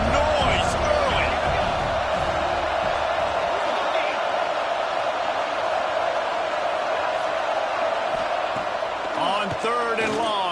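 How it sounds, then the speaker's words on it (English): A large American football stadium crowd roars in a constant, dense wash of noise while a commentator's voice talks over it. "This crowd bringing the energy and noise early."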